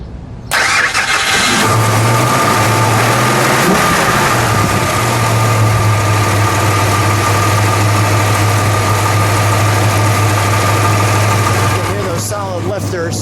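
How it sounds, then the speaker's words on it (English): A 1967 Dodge Coronet R/T with a 426 Hemi, solid lifters and a four-speed cranks briefly and fires up, then settles into a loud, steady, rumbling idle that continues close by for over ten seconds. "let's start the elephant motor, and then we'll let it idle"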